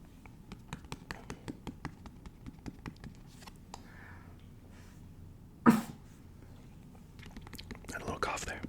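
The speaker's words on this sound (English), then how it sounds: "Had a little cough there." A single sharp cough from a woman cuts through a quiet room midway, amid soft clicking and faint background murmuring during a Friends trivia game.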